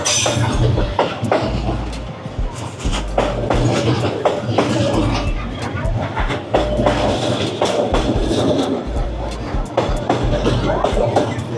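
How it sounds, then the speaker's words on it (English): On Hanoi's Train Street, a long train rumbles past very close and loud, with steady rhythmic clatter of wheels over the tracks and voices faintly in the background. "So close to the train."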